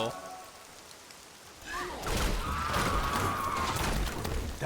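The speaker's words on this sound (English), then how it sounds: "I guess it's just the ambient music of rain" Rain ambience in a video game: a soft patter of rainfall swells in after a quiet start and holds as a steady, moderately loud wash, with a faint tonal sound drifting over it.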